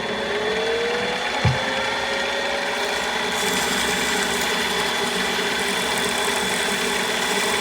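Steady mechanical whir of sanding a handmade ring, probably with a powered machine, running continuously at moderate volume with a brief thump partway through and no talking.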